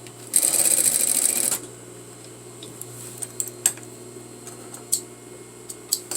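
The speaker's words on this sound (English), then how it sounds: "then sew my 1/2 inch seam and back tack" A sewing machine runs a brief fast burst stitching a 1/2 inch seam with back tack on an all-in-one facing, followed by scattered light clicks and ticks of handling in a quiet room.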